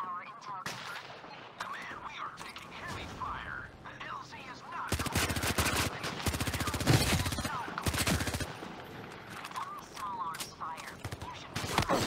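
Small arms fire crackles in the video game Zero Caliber Reloaded, with rapid bursts of automatic gunfire and sharp single shots, loud and dense in the middle and thinning toward the end, while a voice talks underneath.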